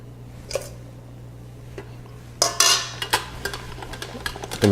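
Potatoes cranked through a food mill for puree, with scattered metallic clicks and scrapes followed by a burst of squishing, grinding strokes in quick succession, close up over a low steady hum, no voices.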